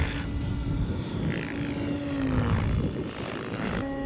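An 80-inch radio-controlled model airplane flies overhead with a steady droning engine whose pitch rises and falls slightly as it passes, heard alone at moderate distance.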